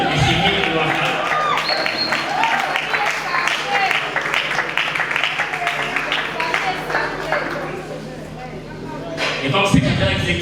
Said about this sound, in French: M. Émile Loafa, dont j'invite l'assistance à applaudir, M. Émile Loafa.